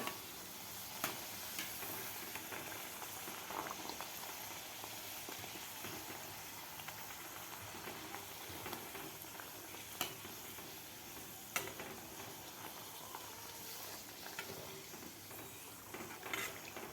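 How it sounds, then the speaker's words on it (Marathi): Ripe-banana puris deep-fry in oil over medium heat, a soft, steady bubbling sizzle with scattered light ticks and crackles, fairly faint and continuous. "मीडियम हीटवरच आपल्याला हे पुऱ्या तळायच्या आहेत फुल गॅस करायचं नाही आपल्याला"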